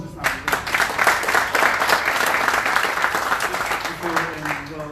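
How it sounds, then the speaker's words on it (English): A room of people claps in an even wash of applause, moderately loud and steady throughout, with faint murmuring voices underneath. "Round of applause"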